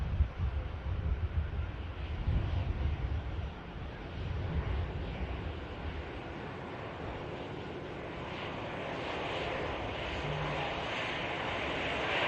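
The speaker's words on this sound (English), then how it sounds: "But that is a Boeing 767-200." A Hainan Express Boeing 767-200 airliner at Manchester Airport, a steady distant jet engine roar with wind buffeting the microphone, rising slightly toward the end.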